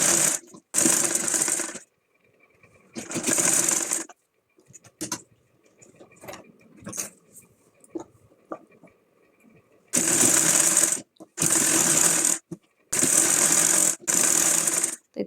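A sewing machine stitches the edges of a cloth bag in several bursts of fast, even whirring, close up, separated by pauses filled with small clicks and fabric handling.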